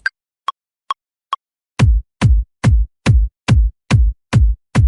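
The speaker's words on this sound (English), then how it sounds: "create a 4/4 kick pattern, just so you kind of regularly hear the drum sound as you're tweaking it" Four light metronome clicks count in, then a deep electronic dubstep kick drum programmed in Ableton Live thumps eight times in a steady four-on-the-floor pattern. Each hit is punchy and booming, with a quick decay and no voices.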